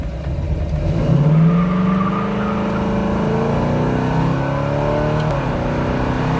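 A 1967 Pontiac GTO tribute accelerates hard, its engine note climbing steadily before a gear shift drops the pitch and it pulls again, loud and close with no talking.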